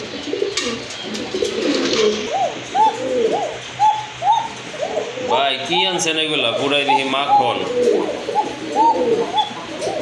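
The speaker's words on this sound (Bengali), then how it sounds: "খুবই সুন্দর ডাকে কবুতরগুলো" Pigeons at a bird seller's collection in Bangladesh coo repeatedly in soft, rhythmic rolling calls, several birds overlapping close by, while someone talks over them throughout.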